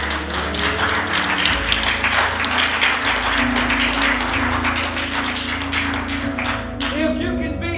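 A church congregation claps its hands in praise, a steady, moderately loud patter of many hands lasting several seconds over a low sustained musical drone, with the clapping thinning toward the end.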